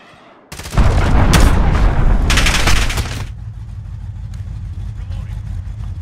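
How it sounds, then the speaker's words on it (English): A missile launch and explosion in the Call of Duty Modern Warfare video game: a sudden loud blast with heavy rumbling and crackling bursts for a few seconds, then a lower sustained roar fading into steady ambient noise. "Missile launched."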